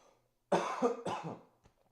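Two harsh, close coughs in quick succession, then quiet with a small click.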